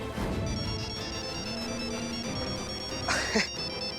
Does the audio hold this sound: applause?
no